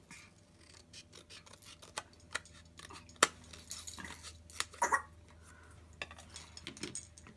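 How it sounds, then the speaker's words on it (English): Several sharp snips and crisp cutting sounds of scissors trimming card paper along a score line, close by, with faint handling rustle between cuts. "I'm going to trim this one down with my scissors along that score line."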